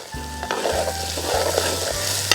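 Onion and green chilli sauté in a pan with a close, steady sizzle. Repeated stirring strokes scrape across it in a regular rhythm, and no voices are heard.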